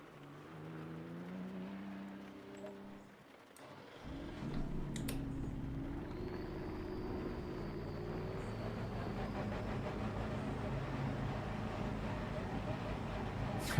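BMW race car engine on track at Laguna Seca in Assetto Corsa Competizione: a rising engine drone builds from a low idle after a brief pause into a steady, moderately loud running tone.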